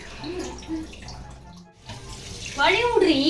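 Tap water runs continuously while basmati rice is washed, a close, steady rushing stream that grows louder and splashier toward the end.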